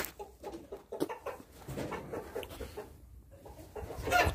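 Hens kept indoors during frosty, snowy weather cluck repeatedly close by, a run of short uneven calls with occasional louder squawks.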